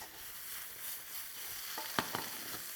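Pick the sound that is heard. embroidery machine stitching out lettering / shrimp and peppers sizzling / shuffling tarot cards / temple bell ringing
shrimp and peppers sizzling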